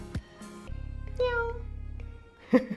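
A phone AR camera effect plays a cute kitten meowing, a few short mewing calls with someone talking softly between and around them.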